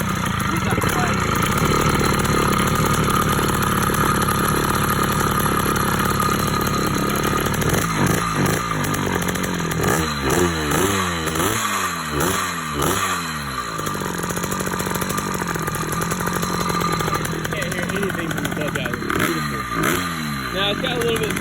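A motorized bicycle's small engine with a wet clutch runs loud and close throughout, a buzzing two-stroke drone that revs up and down in several surges, with someone talking over it.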